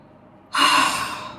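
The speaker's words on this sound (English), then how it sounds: "Take a deep breath in." A single deep inhalation, a close, breathy in-breath that starts abruptly and holds steady for under a second, alone with no talk, during a calming tapping session.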